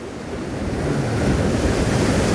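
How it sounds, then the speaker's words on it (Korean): Ocean surf rolls in against a breakwater of tetrapods at a winter harbour, a broad rushing wash of waves that swells louder toward the end, mixed with wind noise. "파도"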